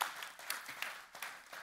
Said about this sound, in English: let's just applaud that life group, because that's awesome